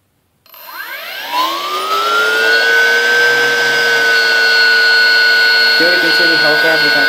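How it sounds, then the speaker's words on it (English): A hovercraft lift motor starts and spins up, its whine climbing steeply in pitch before settling into a loud, steady tone that runs to the end, with a brief knock near the close. "Now I'm going to switch on the lift motor."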